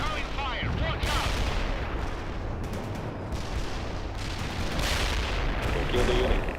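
Heavy artillery blasts and rattling gunfire from the World in Conflict strategy game roll on continuously, loud and dense, with radio-style voices calling out over the barrage.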